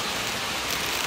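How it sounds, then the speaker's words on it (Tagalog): Steady, dense hiss of heavy rain pouring down, a loud continuous wash with no voices. "Umulan po ng malakas. Ayan po ang ulan guys."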